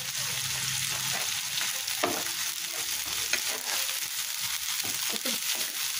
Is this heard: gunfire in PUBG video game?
no